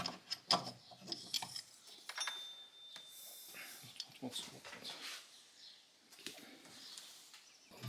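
A ratchet with a long 13 mm socket works on the tensioner pulley of a Renault Laguna 3 F4Rt engine, with quiet irregular clicking and metallic rubbing in short bursts, faint and close.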